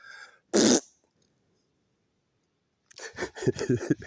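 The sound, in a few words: person imitating a loud farting noise to attract deer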